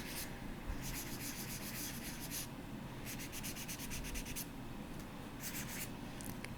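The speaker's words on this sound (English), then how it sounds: "I'm just trying to kind of smooth it out and burnish this so it'll shine up really nicely" Burnishing the surface of a copper clay pet tag, a steady dry rubbing and scraping that comes in repeated bursts of strokes with short pauses, close and fairly quiet, with no voices.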